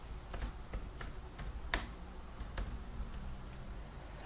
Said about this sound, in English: I type in the zone name.